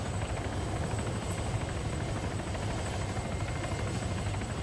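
A helicopter in the Arma 3 game flies onward during a police patrol, its rotor and engine producing a dense, continuous buzzing drone that stays loud and unchanging throughout.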